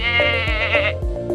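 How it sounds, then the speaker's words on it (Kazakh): A sheep bleats loudly and close, one wavering, drawn-out call that breaks off briefly before a short second bleat, heard alone. "Қой маңырайды."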